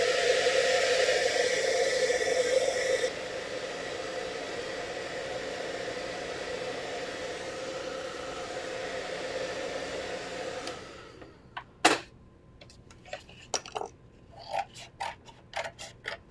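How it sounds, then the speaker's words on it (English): A hair dryer blows on craft foam with a loud steady whoosh for about eleven seconds, stepping down in strength early on before cutting off, followed by scattered clicks and light handling taps. "I'm going to go ahead and blow dry this just for a quick second"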